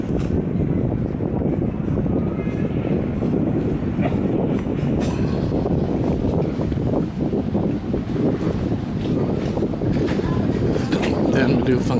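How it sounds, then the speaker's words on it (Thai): Steady, droning engine and water rumble aboard a ferry raft crossing Songkhla Lake as another raft passes, constant and loud with wind buffeting and no clear break. "กำลังสวนกับนะครับแพที่กำลังมุ่งมา"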